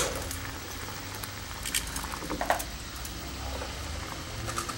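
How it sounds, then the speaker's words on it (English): Porcini mushroom soup simmering in a pot, a soft, steady bubbling and patter at low level, with a few small pops and clicks scattered through and no voices. "Bring to a boil and then just simmer for about a half hour."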